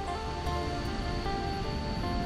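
Steady rush of flowing water at the Tad Kai waterfall in Laos, a continuous even wash with no talk, loud and unbroken throughout.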